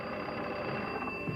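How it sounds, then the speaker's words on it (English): A telephone bell rings steadily and fairly loud across the whole moment, a continuous trilling ring with no voices over it. "That's the phone. Is that our ring?"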